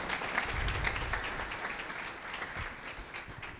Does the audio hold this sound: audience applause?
yes